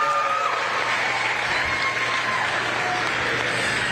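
An audience at a county youth fair livestock show applauds in a dense, steady wash of clapping with faint cheering beneath, continuous throughout.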